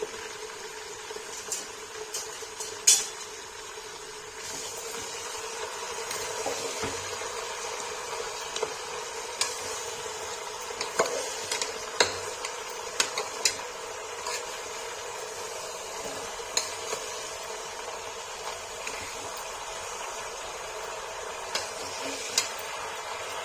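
Shredded cabbage with salt sizzling softly in a pan while being stirred, a steady low hiss with scattered light scrapes and ticks of the utensil, no talking.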